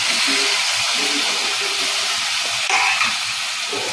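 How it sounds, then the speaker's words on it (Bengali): Marinated chicken hits a wok of hot white oil and sizzles, a steady close broadband hiss of frying that stays loud throughout with faint clatter beneath. "এবার ম্যারিনেট করা চিকেনটা এর মধ্যে পুরোটা দিয়ে দিচ্ছি।"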